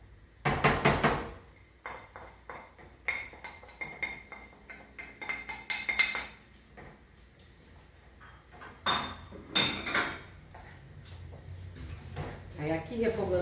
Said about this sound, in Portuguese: Aí aqui refogando bem, mexendo bem.